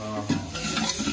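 Cumin seeds and onions frying in a pan for a desi-style rooster curry, a steady close sizzle with stirring scrapes and a brief louder clatter near the start.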